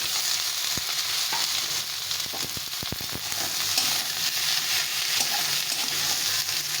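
Green chillies and cut eggplant frying with onions in a pan give off a steady close sizzle, broken by a few sharp clicks and scrapes as the spatula stirs.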